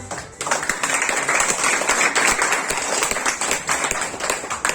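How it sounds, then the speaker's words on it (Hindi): An audience applauds for Javed, a sustained burst of many hands clapping, loud and close, continuing steadily after a brief start with a few voices mixed in. "दूसरे ताली हो जाए जावेद भाई के लिए"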